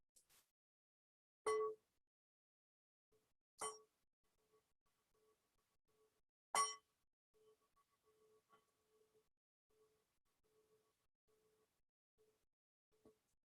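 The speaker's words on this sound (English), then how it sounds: "So I'll ring the bell" A meditation bell is struck three times, a few seconds apart, each clear strike leaving a long, soft ringing tone in an otherwise quiet room; a faint fourth tap comes at the end.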